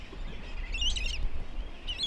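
Terns calling over a small seabird islet in the Glorieuses archipelago, Indian Ocean: a few high, scratchy chirps at middle distance over a steady low rumble of wind and surf, one burst near the start and another at the end.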